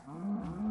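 Cattle lowing in the Minecraft video game, a drawn-out mid-pitched moo with a second rising call close behind, fairly loud and close with no talking over it.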